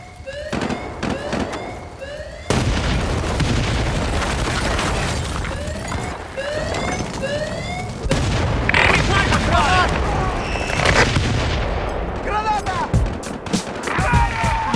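An explosive charge detonates in a video game, with heavy booms landing at two points amid a busy backdrop of fluttering, whistling tones and battle noise.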